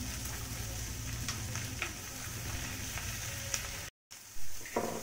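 Cabbage frying in a pan gives off a continuous close sizzle, punctuated by light stirring scrapes and clicks, with a brief cut to silence near the end before the frying resumes.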